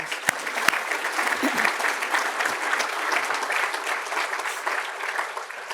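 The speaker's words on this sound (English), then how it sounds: "Let's give him a round of applause." An audience gives a round of applause, with dense, even clapping that holds steady for several seconds and a few sharp louder claps standing out near the start.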